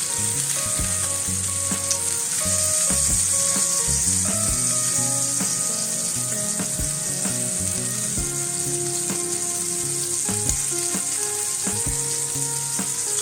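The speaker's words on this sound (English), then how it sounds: "we're going to fry these for at least 1 to 2 minutes on this side until we have a golden brown" Rib eye steaks sizzle and fry steadily in a hot pan, a loud, continuous crackle close up with no talking.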